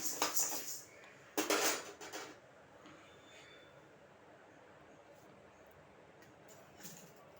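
Dry-roasted urad dal poured out of a pan, with two short bursts of rattling, clattering grains near the start, then a quiet stretch and a faint clink near the end.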